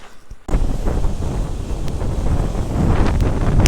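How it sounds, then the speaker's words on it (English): Strong wind on a hot, overcast Arizona Trail hike buffets the microphone, a loud low rumbling roar that kicks in suddenly after a brief quiet moment and keeps gusting. "It's pretty windy."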